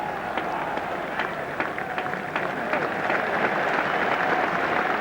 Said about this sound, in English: So applause both for Randall and Lever.